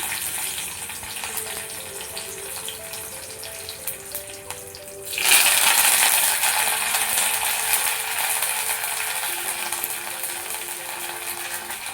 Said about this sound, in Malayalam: 1 സ്പൂൺ വെളിച്ചെണ്ണ ഒഴിച്ച് ചൂടായതിന് ശേഷം അതിലേക്ക് കടുക്, വറ്റൽമുളക്, കറിവേപ്പില നന്നായിട്ട് പൊട്ടിക്കുക